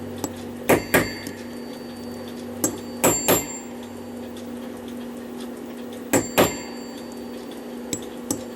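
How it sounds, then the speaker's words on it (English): Rounded metal punch struck with a hammer to peen a chamfer on a Korean 8-day count wheel clock movement: sharp close metallic taps in quick pairs, about six blows in three groups with pauses between. "I'm going to use a rounded punch. I'm going to punch this over into that chamfered area"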